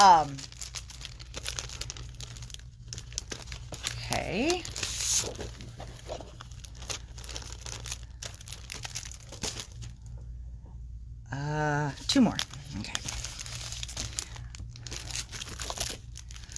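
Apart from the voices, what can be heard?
unwrapping wrapped paper cards, crinkling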